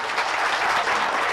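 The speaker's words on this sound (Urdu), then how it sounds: "ایک مرتبہ جو ہے پورا صدر تالی سے استقبال کر دیجئے" Audience applause at a mushaira poetry gathering, a dense, loud and continuous burst of clapping from a large crowd, filling the whole moment.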